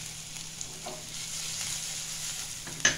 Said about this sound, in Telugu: గార్లిక్ అండ్ జింజర్ ఆఫ్ లేవ ఫ్రై చేసుకోవాలి.